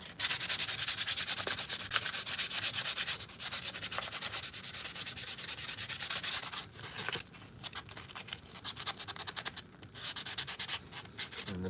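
Steady, continuous sanding of a 3D-printed armor piece: a dense abrasive rasp in repeated strokes, close and fairly loud, with brief pauses near the middle and toward the end.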